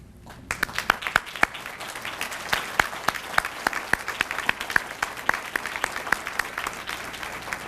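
A room claps for mayors, officials and state legislators at a county address: sparse individual claps at first, then a steady round of applause with sharp distinct hand claps standing out, close and lively, with no talking.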